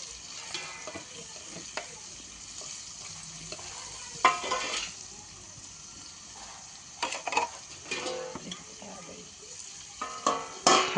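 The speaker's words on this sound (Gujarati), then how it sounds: "હવે આપણે ડુંગળી નાખીએ છીએ અંદર। ડુંગળીને 2 મિનિટ આપણે સડવા દઈશું।" Onions sizzling and frying in a pan while pav bhaji is cooked at home, a steady soft crackle with intermittent louder stirring scrapes and clatters, close and clear with no talk.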